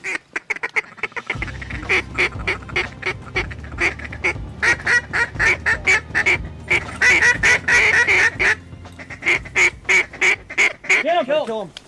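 A flock of geese, or similar waterfowl, flies in honking and quacking over a prairie pothole duck hunt. The calls come as a dense, steady run of loud, repeated honks, with people talking in the background.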